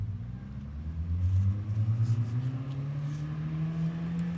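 A Mazda car drags a loose object over speed bumps, a low steady engine rumble with rising tonal drone and scraping texture, fairly close and continuous with no voices.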